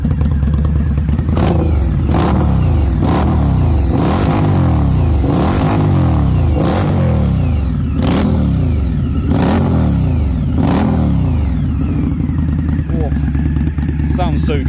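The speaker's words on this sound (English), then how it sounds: "Let's give it another rev quickly." A 2018 Indian Scout Bobber motorcycle engine idling close and loud, with a series of sharp throttle blips that rise and fall roughly every second in a regular rhythm, each rev surging then settling back to a rumbling idle.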